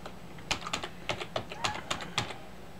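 Quick bursts of typing on a computer keyboard, about a dozen sharp clicks in uneven clusters, close and clear with no talking.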